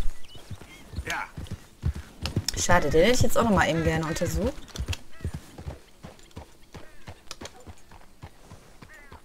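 Horse hooves clip-clop at a walk in the Western video game Red Dead Redemption, a steady run of soft, close knocks that continue beneath someone talking over the game and a brief burst of in-game voices.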